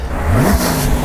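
A Mercedes-Maybach G650 Landaulet revs up briefly as it drives over someone lying beneath it: a short, loud engine surge that rises in pitch before settling into a steady drone.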